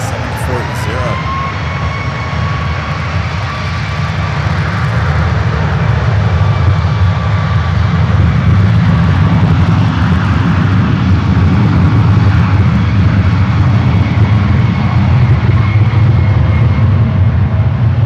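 Air Canada airliner at San Francisco airport, a loud steady jet engine roar building and holding for the whole stretch, with radio voices heard near the start.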